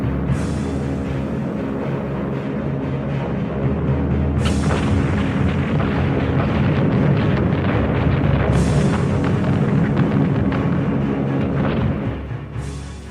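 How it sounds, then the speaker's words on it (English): World War II Luftwaffe bombing raids on airfields, rail links and communications centres: a continuous, loud, deep rumble of explosions and booms, with fresh blasts breaking through about every four seconds. "The Luftwaffe mounted hundreds of strategic bombing missions against airfields, rail links, and communications centers."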